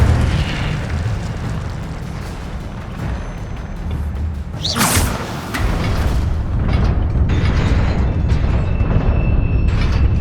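A fiery Incendio spell cast in the Hogwarts Legacy video game bursts out as one sharp blast near the middle, over a steady rumbling, mechanical game backdrop that continues after it.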